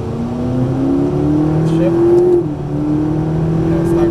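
An exotic sports car accelerates hard on a Las Vegas racetrack, its engine note climbing in pitch, easing off briefly, then rising again, loud and close, with an instructor's voice talking over it.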